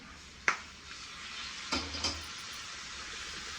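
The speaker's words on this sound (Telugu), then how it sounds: "టమాటా వేసేస్తాను" Tomatoes land in a hot frying pan for a curry, giving a steady, soft sizzle with a few sharp clinks and stirring scrapes near the start. No one speaks.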